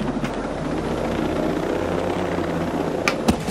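A helicopter in Ghost Recon Breakpoint drones with a steady, loud rotor and engine roar from start to finish, joined by a couple of brief sharp clicks near the end.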